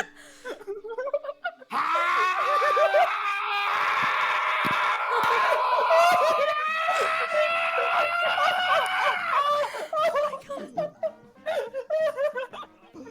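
A voice imitates a long Super Saiyan power-up scream, a sustained strained yell of several seconds, framed by cackling laughter before and after, loud and close.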